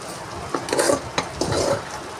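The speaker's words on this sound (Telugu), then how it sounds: "అన్నం వేసి ఆ తాలింపులో కలిపేస్తాను" Leftover cooked rice is stirred into a hot tempering in a pan, a few scraping, clattering strokes of a spoon against the metal over a soft sizzle, close and fairly loud.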